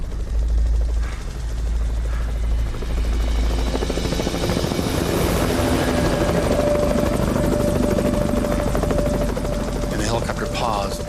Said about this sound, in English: And the helicopter paused and started searching with the searchlight.